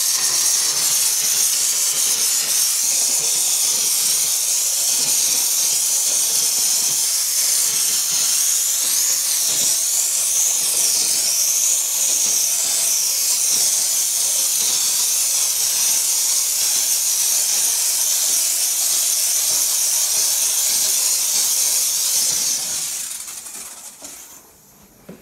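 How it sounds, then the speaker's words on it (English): A steam cleaner blasts a popcorn stucco ceiling with a loud, continuous high-pitched hiss of steam that holds steady for about 22 seconds, then fades out near the end, with no talking. "Do I just blast it with a steam cleaner?"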